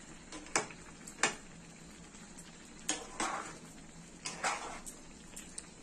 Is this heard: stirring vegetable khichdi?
yes